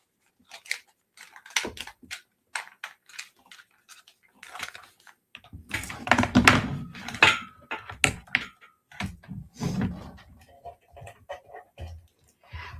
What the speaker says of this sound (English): So we're going to get out the hot glue gun